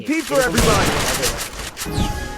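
Rapid bursts of gunfire in a shooter video game tournament, loud dense volleys running nearly the whole time with a few pauses, heard close over game sound effects and a voice talking.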